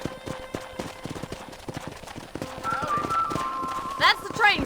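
Horse hooves beat a quick galloping clip-clop in the Western video game Red Dead Redemption, steady rhythmic thuds under speech, with a horse whinnying near the end.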